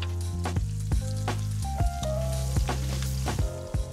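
Venison frying in a pan with brown sugar and butter, a steady close sizzle broken by several sharp crackles and spatters, with no one talking.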